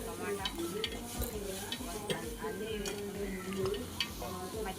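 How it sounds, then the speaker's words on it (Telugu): Boiled ginger garlic paste is stirred in hot oil for a spicy fish curry, with repeated scraping spoon strokes against the pan in a steady rhythm over a constant close sizzle. "అలాగే వేగిన తర్వాత బాయిల్ అయిన అల్లం వెల్లుల్లి పేస్ట్ కూడా వేసిన తర్వాత బాగా కలుపుతున్నాం"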